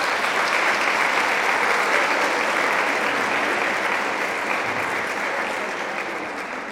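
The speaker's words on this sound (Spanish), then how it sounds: "Les pido un aplauso para ella." An audience at a national education congress in Argentina gives sustained, dense applause that holds steady and slowly fades toward the end.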